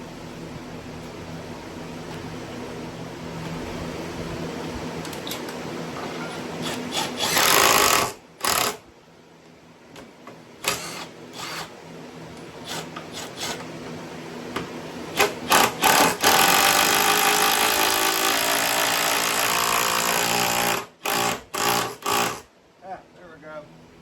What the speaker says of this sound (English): Have to drill it out.